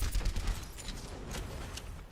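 Rapid gunfire from Soldier in Overwatch, a dense string of close, punchy shots firing in quick succession with no talking.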